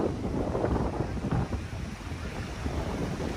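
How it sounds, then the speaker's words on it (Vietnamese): Strong wind buffets the microphone outdoors in the grounds of a palace, a steady rumbling roar of gusts with a broad hiss and no voices. "Hôm nay gió to."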